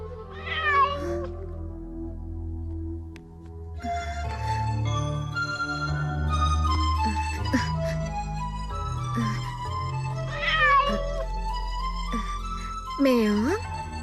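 A cat meows repeatedly at close range, several rising and falling cries spaced across the stretch, heard over a low droning music bed.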